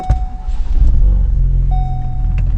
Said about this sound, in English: I can crank it over and see if it starts up again